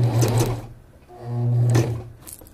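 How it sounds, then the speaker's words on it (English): Sewing machine stitching a curved crotch seam at a 5/8 allowance, two loud close bursts of rapid mechanical whirring separated by a short pause, no talking. "I'm going to start sewing 3 forward,"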